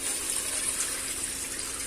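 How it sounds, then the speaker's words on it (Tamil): Rice-washing water, saved after three rinses, poured into a pot of mutton soup, giving a steady, close splashing gush of liquid that runs without break. "இப்ப இதுல ஊத்திடலாம் அந்த வாட்டர்"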